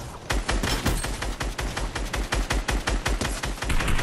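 Rapid bursts of gunfire from the video game Fortnite, dense repeated shots in quick succession, loud and close throughout with no break.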